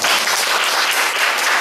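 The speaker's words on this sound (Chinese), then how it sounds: "最后我想请大家再给我们今天三位的来宾再给他们一次掌声" A live audience bursts into sustained applause for three guests at the close of a public philosophy discussion event, dense, steady clapping filling the short moment without pause.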